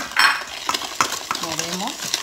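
A utensil stirs melted butter into corn cake batter in a bowl, giving a few quick scraping clicks and soft wet swishes, close and brief, with a voice briefly audible in the background.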